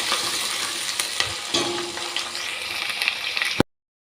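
Curry leaves and spice tempering frying in a pan while making sambar, a loud continuous crackling sizzle with stirring scrapes and clinks, ending abruptly, no talking.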